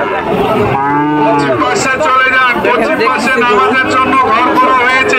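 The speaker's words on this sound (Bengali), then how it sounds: "যারা এই সময় গরু নিতে চান তাদের জন্য দর্শক অল্প দামে গরু" Cattle, including Sahiwal cows, moo loudly and close at a busy livestock market, several long lowing calls rising over a constant crowd babble and nearby talk.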